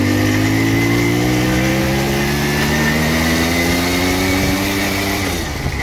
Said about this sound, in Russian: Сейчас замерим максималку на второй передаче.